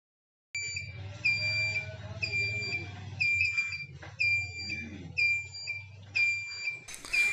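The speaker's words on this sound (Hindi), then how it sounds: "फ्लैशर ब्लिंकिंग भी जो होता है, बीप जो करता है, एकदम ठीक से ही बीप कर रहा है" A vehicle's indicator flasher beeps in a steady repeating rhythm of chirping tones, loud and close, over a low constant hum after the wiring is fixed.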